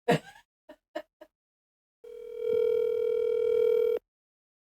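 A telephone call placed to a car repair shop rings out as one steady electronic ringback tone lasting about two seconds, preceded by a few faint clicks and breaths and followed by silence.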